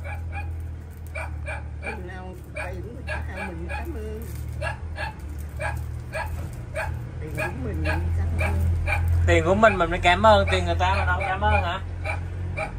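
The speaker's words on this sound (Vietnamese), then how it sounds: "Sao chó sủa quá trời à?" A dog barks repeatedly and rhythmically throughout, with short regular yaps that grow louder and more frantic toward the end, under people talking.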